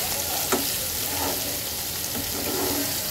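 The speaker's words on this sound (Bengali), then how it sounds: "পেঁয়াজটা একটু নরম হয়ে আসলে আমি মাছ আর পেঁয়াজটাকে একসাথে করে" Small mola fish and onion fry in a pan, a loud, constant sizzling hiss with a few scraping stirs, close by and free of talk.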